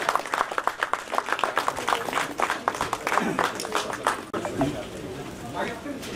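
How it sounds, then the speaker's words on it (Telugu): Crowd applause at a Tollywood press meet for the Vanajeevi Ramaiah movie release, greeting actor Brahmaji as he comes on stage; dense, sustained clapping throughout with a voice speaking over it. "గట్టిగా చప్పట్లు బ్రహ్మాజీ గారికి."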